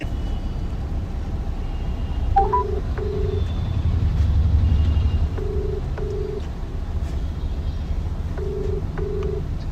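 A phone places an outgoing call, and the ringback tone plays as three evenly spaced double beeps over a constant low background rumble, with no voices.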